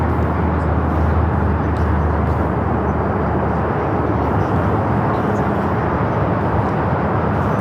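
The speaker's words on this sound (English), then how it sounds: "Nippon Cargo Airlines 101 taking off to Tokyo Narita on the 747-8 freighter." A Nippon Cargo Airlines Boeing 747-8 freighter taking off at LAX, producing a loud, close, continuous jet roar that fills the whole stretch without a break.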